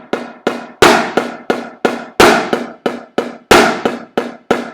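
Drumsticks strike a snare drum in a steady stop-stroke exercise, sharp accented hits alternating with quieter taps, each cut short with no rebound, close and loud with no talking.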